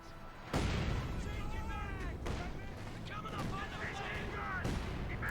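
Artillery and gunfire crack across a Company of Heroes 2 battle, several sharp bursts and booms over a rumbling din while someone talks throughout.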